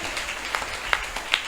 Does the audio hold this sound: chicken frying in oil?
no